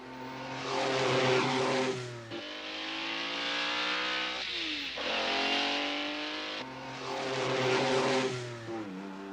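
A cartoon racing car speeding along at high speed, with loud engine revs that rise and fall in pitch over several fast passes, and no speech.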